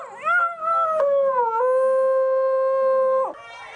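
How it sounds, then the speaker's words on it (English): A dog howls in long, sustained, singing tones, rising then holding steady for a few seconds in a drawn-out wail, close and alone. "Reviews for his performances as a singing dog continue to roll in"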